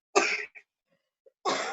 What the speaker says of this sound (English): No, she coughing.